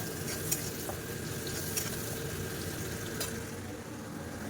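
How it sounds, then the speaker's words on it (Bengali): Onions fry in a pan with a steady, fairly quiet sizzle and a few faint crackles, and no one speaks. "এই যে দেখো আমার পেঁয়াজ ভাজা হচ্ছে"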